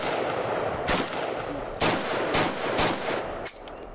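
Kalashnikov assault rifle shots fired at a range from 25 yards, four loud, sharp single reports spaced unevenly about a second apart, each with a brief echo.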